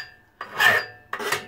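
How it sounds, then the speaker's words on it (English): A hacksaw rasps through metal during chassis frame assembly for a follow-me robot, two close, harsh back-and-forth strokes with a short pause between them. "one of the nice things about using a hacksaw though over other methods, or just about any saw"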